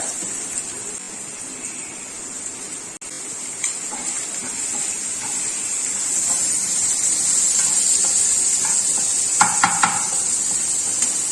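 Sliced onion frying in a pan gives a steady, close sizzling hiss that grows slightly louder over time, with a few light utensil clicks toward the end.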